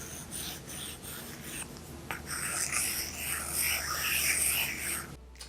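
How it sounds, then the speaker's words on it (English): A stylus writing on an iPad Pro fitted with a Zoega paper-like screen protector, giving a close, gritty scratching with short strokes, then a longer continuous scribble that stops abruptly near the end. "it has a nice grip to it to make it feel like you're writing on actual paper"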